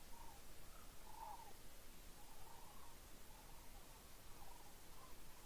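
Crow-like birds calling while circling overhead on a hike in Theodore Roosevelt National Park, distant harsh caws repeating every second or so over a hiss of wind.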